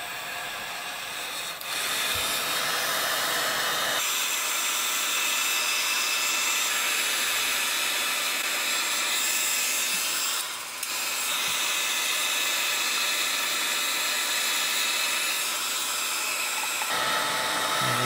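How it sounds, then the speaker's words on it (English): A blower pushes red resin across a serving board with a loud, steady airy hiss. The flow dips briefly about a third of the way in and again near the end, and no one speaks. "Now get your blower. And we're going to blow the red that way."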